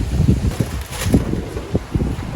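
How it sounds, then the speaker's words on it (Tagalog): Steady wind rushes past, with low gusty rumbles and buffeting thumps, as if blowing across a microphone outdoors. "Mahangin."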